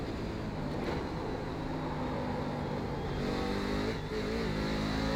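A racing car in iRacing revs hard with its tyres spinning, a steady loud engine drone under constant strain, holding close throughout with slight pitch shifts and no talking.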